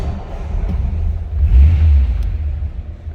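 A 1940 Ford Standard 5-Window Coupe's flathead V8 idles close by on a cold start with a deep rumble, then swells in a brief rev and settles back, with no one talking.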